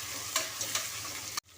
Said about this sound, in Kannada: ಈ 3 ಸ್ವಲ್ಪ ಎಣ್ಣೆಗೆ ಫ್ರೈ ಆಗೋವರೆಗೂ ಸ್ವಲ್ಪ ಬಿಡೋಣ.